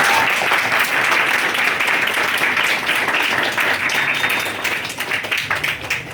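An audience claps loudly in a room, dense continuous applause that holds steady and then thins into scattered claps.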